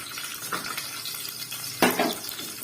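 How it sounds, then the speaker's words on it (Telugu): Chana dal and garlic cloves frying in oil in a pan give a steady close sizzle with a few faint stirring scrapes, then a sharper burst of crackling near the end. "శనగపప్పు ఫ్రై అవుతుంది"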